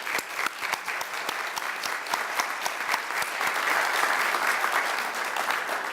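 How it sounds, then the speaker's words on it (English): Sustained applause from an audience at a chamber of commerce annual awards ceremony, honoring the board: dense, steady clapping that fills the room for the whole stretch, with no talk over it. "give them a round of applause for all the hard work"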